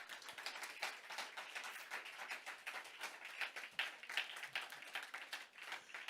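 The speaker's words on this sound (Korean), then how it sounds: "우리 하나님께 영광을 박수를 드리기 원합니다" A church congregation applauds during a Sunday main worship service, a faint, steady wash of many hands clapping that carries on evenly for several seconds with no voice over it.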